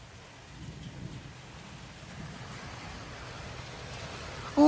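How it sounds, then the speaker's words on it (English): Heavy wind-driven rain pours sideways during a strong storm in Frisco, Texas, a steady broadband hiss of rain and gusts that builds slightly, with no talking. "Oh, look at the rain. It's going sideways."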